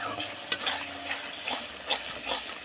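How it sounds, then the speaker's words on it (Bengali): Spoon stirring cauliflower and potato with turmeric and chili powder in a pan, a steady low sizzle under repeated soft scraping strokes at close range, no talk. "আর এক চামচ হলুদ এক চামচ লঙ্কার গুঁড়ো দিয়ে ভালো করে নেড়ে নিলাম সুন্দরভাবে"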